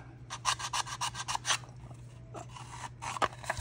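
Rapid rasping strokes of a hobby tool carving weld-seam detail into a Tamiya Tiger I tank model, close and fairly quiet, in two bursts of repeated scraping separated by a short pause, over a steady low hum.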